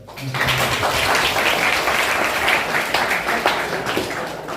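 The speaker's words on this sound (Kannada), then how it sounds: "ಈ ಚಪ್ಪಾಳೆ ಸೌಂಡ್ ಇನ್ನೂ ಜೋರಾಗುತ್ತೆ." A school audience at a government school breaks into loud applause that starts abruptly and holds steady as a dense, continuous clatter of many hands, with faint voices mixed in.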